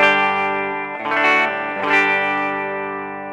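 Clean electric guitar played straight through, bypassing the AdrenaLinn Sync effects unit, with sustained ringing chords and a couple of fresh strums, heard alone and close.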